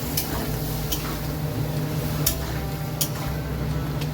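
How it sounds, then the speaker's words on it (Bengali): Masala with salt, chili powder and added water sizzling in a pan, a continuous close hiss with a few brief spoon clinks scattered through it and no voices. "এই যে নুন আর লঙ্কার গুঁড়ো দিয়েছি, এবার একটু জল দিয়ে দিলাম, নাহলে মশলাটা পুড়ে যেতে পারে"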